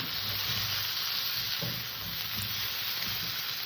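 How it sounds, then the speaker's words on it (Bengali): Cauliflower and potato pieces fry in a pan, producing a continuous, even sizzle and hiss close by, with a few soft stirring knocks partway through. "আমার ফুলকপি আলুটা ভাজা হয়ে গেছে আমি সুন্দর করে একটু লাল লাল করে ভেজে নিয়েছি"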